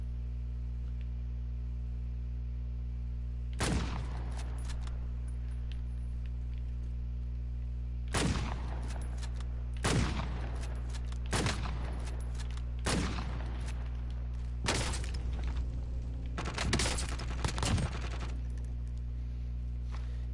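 Gunfire in the Call of Duty: Warzone video game: several sharp bursts of automatic shots, well separated over a steady low hum, fairly close and loud against otherwise quiet background.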